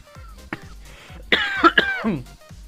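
A person coughs, a few sharp throaty coughs in quick succession, close and fairly loud after a quiet moment.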